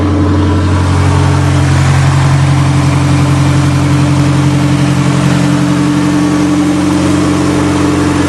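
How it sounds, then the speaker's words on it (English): A loud, steady turbocharged Aries race wagon engine idling high through a very low-restriction exhaust, with a rough, pulsing low rumble that holds constant throughout, close up and without talk. "It's got a very, very low restriction exhaust, so it's running on high idle"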